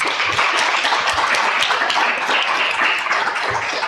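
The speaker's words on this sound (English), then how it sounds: "Let's give our judges a round of applause." An audience at a state poetry recitation final applauds the judges, a steady wash of dense clapping that stays loud and even throughout with no voices.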